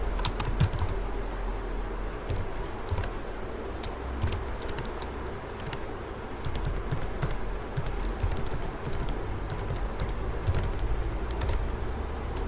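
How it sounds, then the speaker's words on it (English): Steady typing on a computer keyboard while filling in a form in Microsoft Word, with rapid, even key clicks running continuously at close range over a faint background hum. "Here I will type my CNIC."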